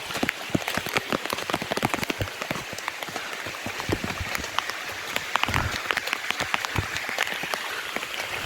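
Heavy monsoon rain pours down at the Girnar ropeway in Junagadh, a dense, loud, continuous hiss of drops splashing on surfaces with no let-up and no voices over it.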